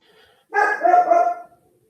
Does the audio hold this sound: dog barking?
yes